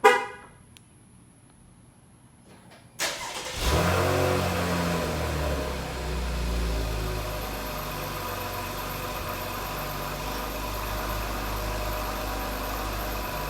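A 2019 V6 Camaro fitted with a Borla Atak exhaust cold-starts: a quiet moment, a sharp cranking catch, then a loud, steady raspy idle that holds for about ten seconds.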